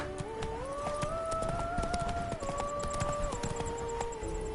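Roach, Geralt's horse in The Witcher 3: Blood and Wine, trotting with steady, rhythmic hoof clip-clops, close and clear, over a looping melodic game music line.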